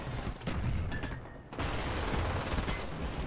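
Heavy automatic gunfire from the PC shooter Call of Duty: Black Ops rattles in dense, continuous bursts. It pauses briefly around the middle, then resumes just as loud and steady.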